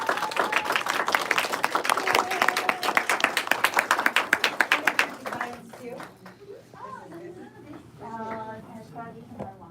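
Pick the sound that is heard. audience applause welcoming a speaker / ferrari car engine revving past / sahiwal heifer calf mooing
audience applause welcoming a speaker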